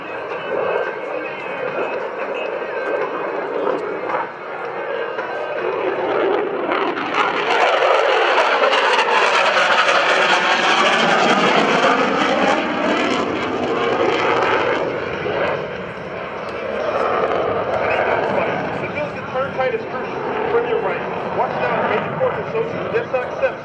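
An F-16CJ Fighting Falcon jet roars overhead at a 2011 Rhode Island Air National Guard airshow while flying aileron rolls. The loud, sustained roar swells sharply partway through, then eases into a long, rumbling fade.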